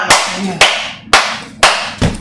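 Five sharp, loud, evenly spaced claps ring out close by, each one decaying before the next, with no voices present.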